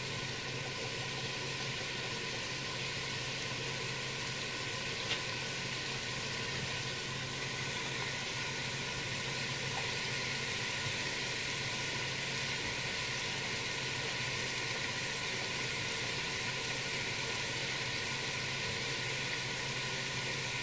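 Pork stew ingredients sizzle in a pan on the stove, a faint, even, continuous hiss that carries on steadily for about twenty seconds with no talking.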